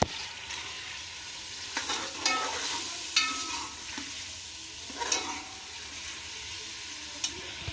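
Pumpkin pieces fry and get stirred in a well-roasted spiced masala, a steady soft sizzle broken by several scraping stirs of the spoon, close up with no voices.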